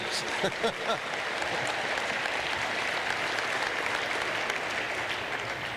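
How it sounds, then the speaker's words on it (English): A commencement audience at an indoor engineering and business graduation ceremony breaks into loud, sustained applause that fills the hall evenly from start to finish. "yes, we can applaud now if you want"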